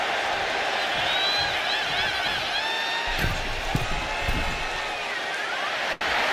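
A wrestling arena crowd in the WWE 2K26 video game, a dense, constant roar of many voices with a few louder swells and thumps mixed in.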